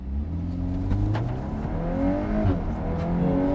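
A brand-new 2022 VW Golf R's 2-liter turbocharged four-cylinder engine pulls hard, its note rising in a steady, close, continuous surge of acceleration.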